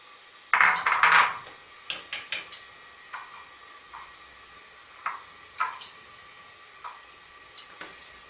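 Egg whites being mixed into ground chicken with celery and onion in a bowl to clarify a stock. Irregular clinks, taps and scrapes of a utensil against the bowl, one louder cluster early, then sparse knocks.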